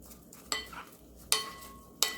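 Seasoned eggplant being mixed with perilla oil, three sharp utensil clacks against a bowl at regular intervals, with soft scraping between them, close and alone.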